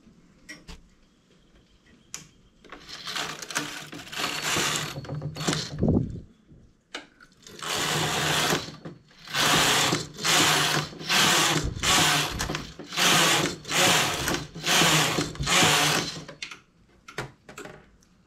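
Domestic knitting machine working a giant bobble stitch, with the carriage running back and forth across ten rows in a new colour. The passes come as repeated loud mechanical whirring bursts with brief pauses between them, close by and with no voices.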